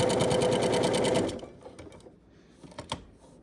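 A sewing machine stitches a baby quilt in a rapid, steady mechanical run for over a second, then stops, leaving a few soft clicks and handling noises.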